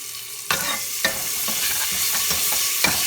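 Garlic-ginger paste sizzles in hot oil with transparent onions in a pan while a spoon stirs it, scraping with a steady rhythm of regular strokes, close and fairly loud, with no talking.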